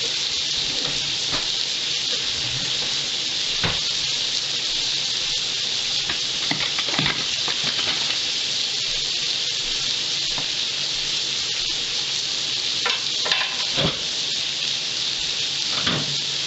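Buck meat burger patties fry in a hot pan with a steady, close sizzle and hiss. Occasional pops and scraping stirs break through the constant frying, and no one speaks.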